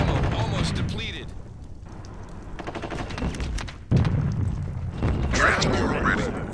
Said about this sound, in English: You just get bombed.